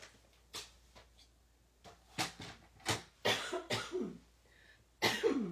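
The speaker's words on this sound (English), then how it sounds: "Sorry about coughing, but since this is live, I can't edit it out." A person coughs repeatedly at close range, a series of short, irregular bursts with brief pauses and throat clearing in between.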